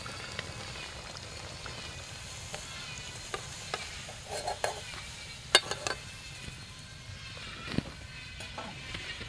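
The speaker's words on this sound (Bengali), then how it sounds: "বাকিগুলি এভাবে ভেজে নেব এখন" Onion and egg pakoras frying in hot oil, a steady bubbling sizzle with scattered clicks and scrapes of stirring, close and moderately loud, no voices.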